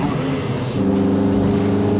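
An 800-horsepower twin-engined car drives past at speed with a steady, loud engine drone that thickens and deepens partway through, no voices over it.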